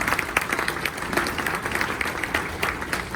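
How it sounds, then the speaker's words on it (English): A luncheon audience claps for Ed in a dense, continuous round of applause, fairly close and steady, with scattered sharper individual claps standing out and no talking over it. "Let's give him another round of applause."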